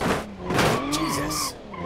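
Tyres squealing as a car skids through a 360-degree spin in the BeamNG driving game, a loud continuous screech with engine drone, wavering pitch and rough bursts across the whole moment.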